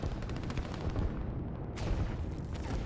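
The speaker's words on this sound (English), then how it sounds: "There's a lot of artillery trying to push him back." Artillery fire in the video game Line War, a dense continuous rumble of many overlapping low booms and blasts, steady and fairly distant, with no talking over it.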